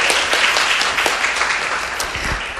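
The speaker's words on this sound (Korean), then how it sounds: "다시 한번 박수 부탁드릴게요" Studio audience at a Korean radio show broadcast applauds loudly and steadily, a thick, continuous wash of many clapping hands close to the microphone with no voices over it.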